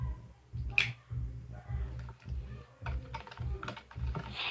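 Homemade slime is stirred vigorously in a container, producing a close, rhythmic series of soft wet clicks and squelches in regular strokes, quiet, with no talk.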